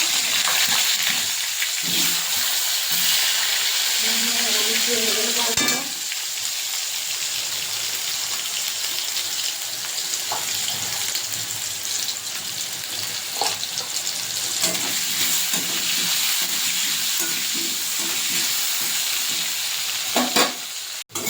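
Potatoes frying in hot oil give a loud, continuous close-up sizzle with occasional clinks of a utensil against the pan, no voices.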